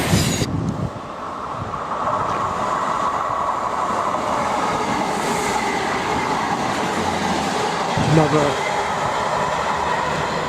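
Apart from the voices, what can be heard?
passenger train passing through station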